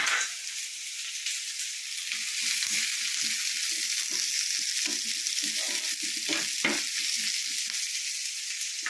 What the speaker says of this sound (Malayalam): ഉള്ളി, തക്കാളി, സാമ്പാർ മുളക്, ഇഞ്ചി, പച്ചമുളക്, ക്യാരറ്റ് എല്ലാം കൂടെ നമുക്ക് ഒന്ന് വഴറ്റിയെടുക്കാം